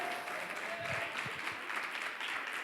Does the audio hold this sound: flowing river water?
no